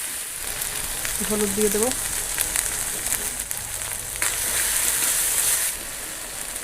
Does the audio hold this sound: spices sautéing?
yes